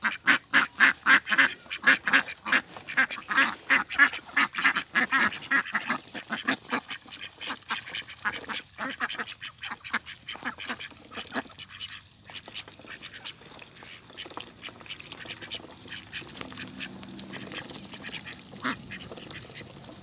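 A flock of ducks quacking loudly and rapidly up close while eating thrown rice, with the quacking thinning out and growing sparser toward the end.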